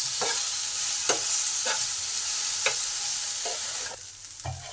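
Potatoes and drumstick pieces sizzle steadily in a pan while a spatula scrapes and stirs them in repeated separate strokes, close and fairly loud, with no talking.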